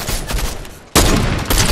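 Loud bursts of automatic gunfire in the video game Fortnite come in two close volleys separated by a brief quieter gap, with no talking.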